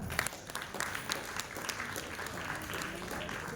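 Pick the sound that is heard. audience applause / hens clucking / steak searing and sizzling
audience applause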